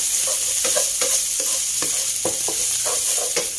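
Pork stir-fries in a hot pan with ginger, garlic and dried chili, a loud steady sizzle broken by repeated scraping strokes of a spatula, close up with no voices.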